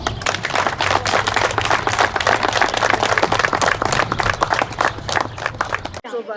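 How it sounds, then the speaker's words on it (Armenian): A crowd claps loudly and steadily for about six seconds at a school's 45th graduation anniversary memorial gathering in Proshyan village, then the applause stops abruptly. "Արիք բարձր ծափահարություններով ողջունում եմ"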